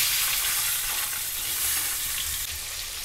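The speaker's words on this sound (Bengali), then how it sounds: "ডিমগুলো ভেজে নেব" Eggs fry in hot oil in a pan while cooking a Bengali shukto, giving a steady, close crackling sizzle with occasional louder spits and no voices.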